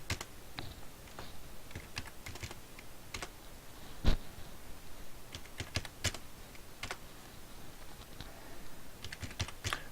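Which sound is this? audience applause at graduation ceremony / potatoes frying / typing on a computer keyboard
typing on a computer keyboard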